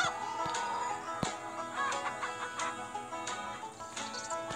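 Busy game-like clucking of chickens in the video game Hay Day over a dense bed of background sound, with scattered sharp clicks and chirps throughout.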